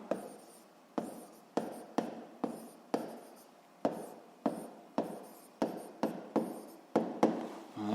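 Hooke's law is written out by hand, likely chalk or marker strokes on a board, in repeated short scratchy bursts with brief pauses, close and clear with no talk.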